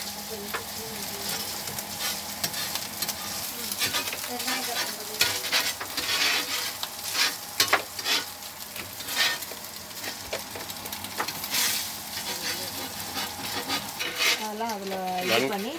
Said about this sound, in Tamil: இதில் தேவையான உப்பு, பெப்பர், ஆயில் போட்டு நல்லா வேக வைக்கணுங்க.